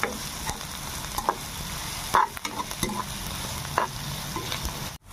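Onion and ginger paste fries in a pan for a dried fish curry, giving a steady close sizzle with sharp scrapes and clinks from a spoon stirring it, continuous and with no talking.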